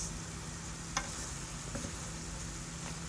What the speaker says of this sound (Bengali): মরিচ হলুদ দিয়ে দিছি আর কষতে আছে